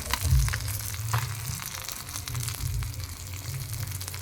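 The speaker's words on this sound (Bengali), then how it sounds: "এই মাছগুলো ভাজছি, দুটো তেলাপিয়া মাছ তোমার দাদাভাই নিয়ে এসছে ছেলেটার জন্য।" Two tilapia fish fry in a pan of oil, making a steady close sizzle with a few louder bursts of spitting.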